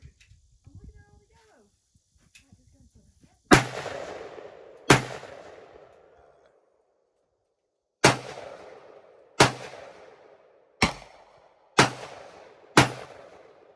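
AR rifle shots at an outdoor shooting range, seven sharp cracks spaced a second or more apart, each with a loud decaying echo, fired after a stretch of quiet.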